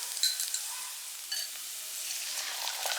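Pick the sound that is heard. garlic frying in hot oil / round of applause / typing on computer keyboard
garlic frying in hot oil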